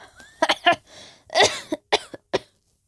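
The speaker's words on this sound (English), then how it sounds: "The chuckle turned into a cough." Several sharp, close coughs from an old woman in quick bursts, a short run of harsh hacking that trails off into silence.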